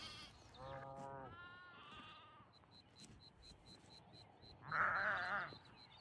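Lambs bleat in a paddock on a quiet evening: a couple of clear, wavering calls near the start, then a louder, closer bleat toward the end, with faint bird chirps ticking steadily in the background.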